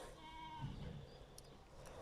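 A lamb bleats once, a wavering high cry, faint against a quiet background.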